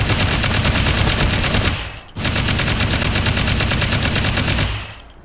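A rapid-fire gun emptying a 60-round drum in the H3VR virtual reality game, fast evenly spaced shots in two loud sustained bursts separated by a brief pause, the second trailing off at the end.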